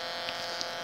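Horn-loaded tweeter playing a steady, bright tone, miked close at the centre of the horn, a continuous dense hiss-like high band with faint flickers and no talking.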